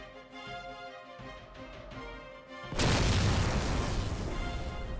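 A Lich vehicle explosion from Halo 4, played inside a Halo 3 mod, bursts in as a loud, dense roaring blast that sustains its rumble after a quieter stretch of game ambience.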